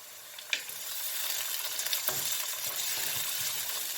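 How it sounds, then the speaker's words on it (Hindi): Steady crackling sizzle of garlic and ginger frying with onions in oil, with a few scraping stirs and small pops over a constant hiss. "प्याज फ्राई हो चुके हैं, अब हम इसमें लहसुन अदरक डालेंगे।"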